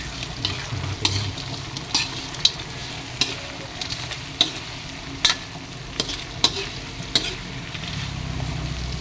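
Mung bean stew with tomatoes is stirred in a pan, sharp spatula scrapes striking at a fairly regular beat, roughly once a second, over a low steady sizzle, with no one speaking.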